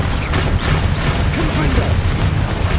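Confringo and Bombarda spell blasts in the Hogwarts Legacy video game, with dense, loud booming and crackling impacts rumbling continuously alongside game music and effects, with voices mixed in.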